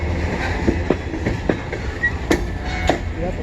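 CN M382 northbound mixed freight train from Toledo, Ohio to Toronto, rolling past close by in Kimball Township, Michigan, with a steady rumble and repeated rhythmic wheel clacks over rail joints.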